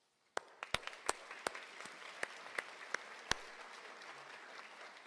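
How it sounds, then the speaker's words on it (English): Graduation ceremony audience at Edinboro University breaks into applause, starting abruptly with a few sharp, loud claps standing out before settling into steady, moderately distant clapping from a large crowd. "I ask that you give yourselves a round of applause."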